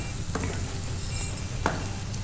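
Onions fry in a hot pan with whole spices, giving a loud, even sizzling hiss close by, marked by a couple of brief utensil clinks.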